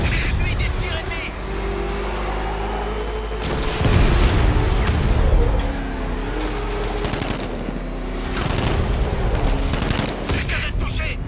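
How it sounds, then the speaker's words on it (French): Enemy gunfire in the video game Batman Arkham Knight, loud bursts of shots and booms layered over a steady engine roar and game music throughout. "J'essuie des tirs ennemis."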